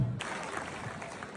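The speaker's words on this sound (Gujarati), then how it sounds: "ચલો આપણે સૌ તાળીઓથી વધાવીએ." Applause breaks out at a school class representative election, a dense burst of many hands clapping that begins suddenly and continues steadily, filling the room at moderate volume with no clear speech.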